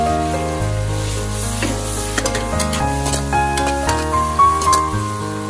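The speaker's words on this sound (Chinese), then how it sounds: "接下来再倒入豆腐，翻炒均匀" Tofu, or dried bean curd, stir-fried in a wok with garlic chives, giving a steady sizzle with scraping stir strokes over a continuous low hum and tonal background music.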